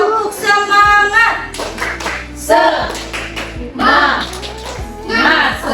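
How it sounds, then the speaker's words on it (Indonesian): A classroom group performs the 'tepuk semangat' clapping routine during a micro-teaching lesson. Bursts of sharp rhythmic hand claps mix with lively chanting and children's voices, loud and close. "Tepuk semangat"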